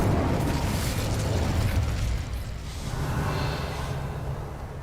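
Incendio fire spell cast in a Hogwarts-style magic video game, a loud roaring whoosh of flame with crackling bursts that dips briefly and then swells again into a sustained blaze.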